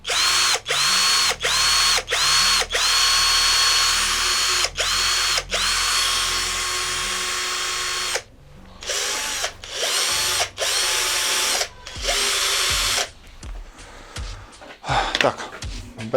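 A Procraft PA212 cordless screwdriver drives screws in a series of short, close bursts with brief stops between, later giving way to choppier runs and handling clatter.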